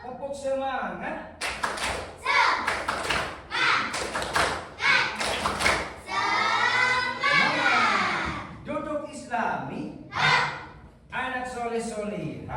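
Schoolchildren in a classroom perform the tepuk semangat chant, loud rhythmic bursts of group clapping and thumping alternating with sung, shouted voices in a quick repeating pattern.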